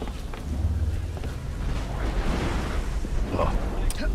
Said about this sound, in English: Oh, love the sound of the thunder,